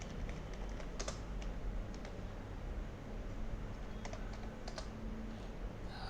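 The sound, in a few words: typing on a computer keyboard in Excel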